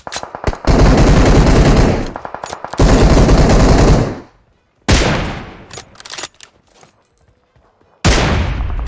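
Loud, dense automatic gunfire in PUBG Mobile comes in long, rapid bursts broken by short pauses and a brief quiet gap, then one final burst.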